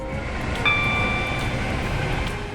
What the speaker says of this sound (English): The sound of this train is the same as the Class 802, but the horn is new, which sounds good.